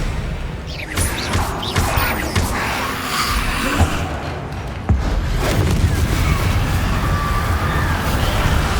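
Confringo explosive spell blasts in the Hogwarts Legacy video game: a chaotic run of booms, crashes and whooshing impacts, with a heavy thud near the middle giving way to a sustained loud rumble, amid game combat noise.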